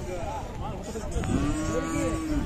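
A Khillar bull at a rural Maharashtra cattle market gives a loud, close, drawn-out moo, with a second lowing call over faint market background noise.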